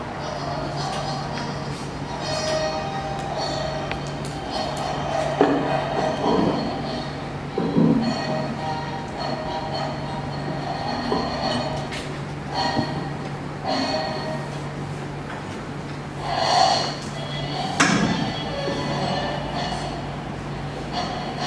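A locomotive with flat, covered and hopper wagons rolls along rails, a continuous rumbling run with periodic clanks and swells of louder passing noise.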